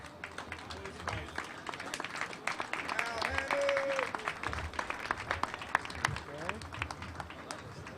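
Scattered audience clapping and cheering at a transit dedication ceremony for Newark City Subway PCC cars as volunteers come up for plaques, moderate and uneven, mixed with talking voices and crowd murmur throughout.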